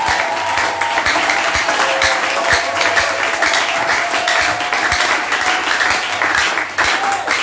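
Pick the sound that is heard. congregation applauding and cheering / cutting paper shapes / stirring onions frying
congregation applauding and cheering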